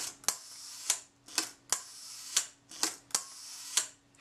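A Kodak Retinette type 012 camera, French market version, has its shutter fired repeatedly while being serviced, with about eight sharp mechanical clicks and whirs at an irregular rhythm, close and clear against near silence.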